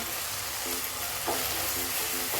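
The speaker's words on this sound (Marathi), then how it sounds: "एखादा मिनिट अजून जरा परतून घेऊया मिश्रणाचा आपला आता गोळा होत आलेला आहे" Bottle gourd halwa is sautéed in a pan, giving a soft continuous sizzle with a few short scraping strokes of stirring, close and steady, without speech.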